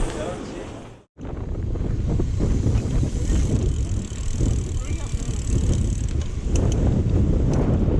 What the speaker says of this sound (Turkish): ovanın rüzgarı korkunç. inanılmaz rüzgar var.